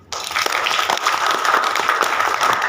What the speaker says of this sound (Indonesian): Kasih lihat tepuk tangan sedikit.